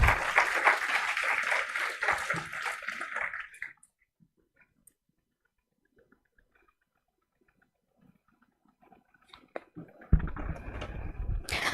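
Audience applause rings out for about three and a half seconds, dense clapping from a crowd at a formal talk event as a guest is welcomed onto the dais, then silence, before another loud burst of sound near the end.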